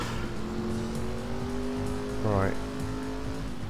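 A car driven through city streets in Driver San Francisco, its engine humming steadily before a short rising rev with a squeal of tires, close and loud under speech.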